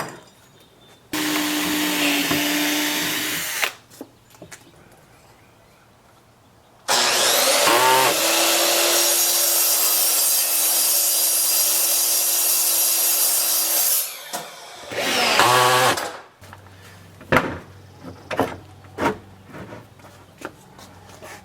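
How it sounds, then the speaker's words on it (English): A power drill bores pilot holes in wood, heard as two long loud whining bursts separated by a quiet gap, followed by shorter spurts and small knocks as the drilling finishes. "We will pre-drill in the center."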